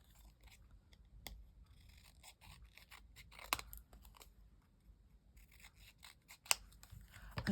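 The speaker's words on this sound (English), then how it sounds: "We'll maybe just cut around that a little bit." Scissors snip around a piece of paper for a disc-bound junk journal collage, a run of short, close, crisp cuts with small rustles of paper between them.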